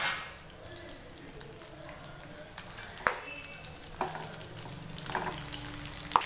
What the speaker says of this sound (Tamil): சேர்த்துட்டு லோ ஃப்ளேம்லேயே பார்த்தீங்கன்னா எண்ணெயில் கத்திரிக்காய் வறுத்துக்கோங்க